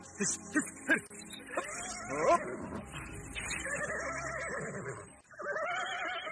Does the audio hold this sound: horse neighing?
yes